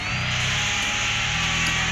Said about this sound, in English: Guys, let's do some sanding on this. This one I got 60 grit